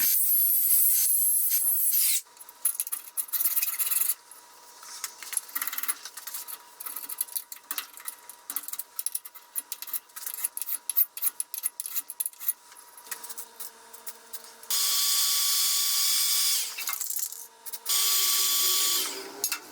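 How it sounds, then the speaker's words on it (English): An angle grinder smooths a sharp, shipping-damaged metal edge on an air compressor, whining in bursts: long steady passes at the start and end with choppy stop-start grinding between, loud and close. "I'm going to shape this up with a grinder and make it look a little more consistent"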